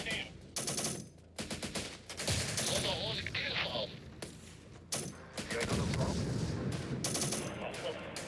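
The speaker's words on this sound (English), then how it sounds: "Looks like mortars." Gunfire and explosive bursts in the war game Syrian Warfare, with mortar fire in urban combat: loud, rapid volleys and sharp booms that come in repeated clusters, close and harsh, with brief gaps between them.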